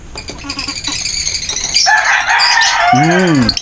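Birds call close by at a pet market in Angeles City, Philippines, with sharp chirps and clucking giving way to a loud, drawn-out rooster-like crow near the end.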